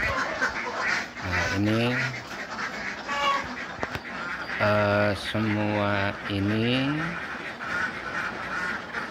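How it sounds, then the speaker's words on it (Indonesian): Ducks on an egg-laying duck farm, some no longer laying or moulting, give repeated quacks in short bursts, fairly close and loud, mixed with a person talking throughout. "bebek yang lagi tidak bertelur atau berondol atau posisinya ngurak"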